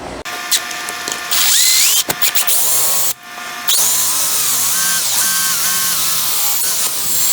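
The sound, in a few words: power drill drilling a hole in a wooden chair stile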